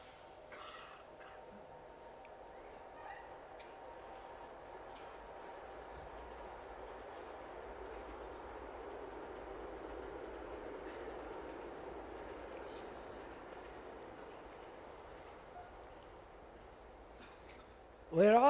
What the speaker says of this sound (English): There's another train coming.